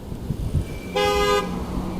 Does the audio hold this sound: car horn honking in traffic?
yes